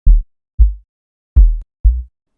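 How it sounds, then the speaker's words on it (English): Four soft, muffled kick drum hits thump alone in an uneven pattern, each low and rounded with a quick decay. "most Afrobeat songs now use soft kicks like this"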